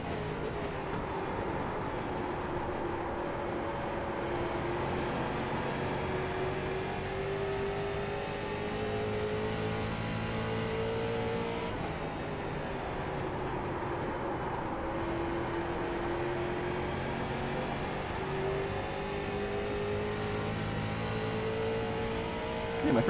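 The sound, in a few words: race car engine revving and shifting in iRacing video game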